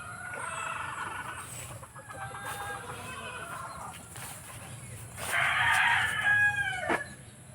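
Chickens cluck steadily beside a coop of chicks while a rooster crows loudly near the end, mid-distance farmyard sound with faint background voices.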